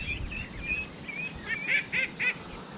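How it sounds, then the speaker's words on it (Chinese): Ducks kept by local villagers, swimming in water, give a series of about eight short nasal calls that grow louder and closer toward the end, over a low outdoor rumble. "这边是老乡家里养的鸭子。"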